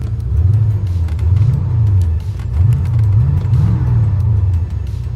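A C4 Corvette engine revs loudly and close, its deep rumbling note swelling and falling in several blips over a steady idle, with no talk.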